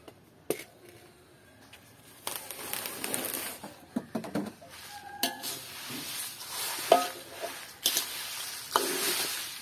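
Dried red chilies roasting for homemade curry powder in a village kitchen, with scattered scraping stirs and light crackling from the pan, uneven bursts close by and no speech.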